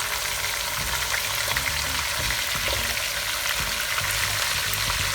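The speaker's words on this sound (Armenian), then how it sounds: "մի 2-3 րոպեից ավելացնում ենք կարտոֆիլը արդեն, ու արդեն իրար հետ ենք տապակում" Chicken pieces and potatoes fry together in spiced oil in a pan, with a steady close sizzle and faint scraping stirs throughout.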